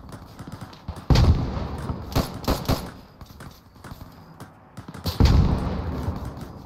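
Mortar rounds firing and landing in the World War II combat game Arma 3, loud heavy booms at irregular intervals amid sharper cracks of gunfire, fairly close.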